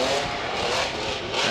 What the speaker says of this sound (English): Standing on that twin supercharged 12-cylinder Ferrari.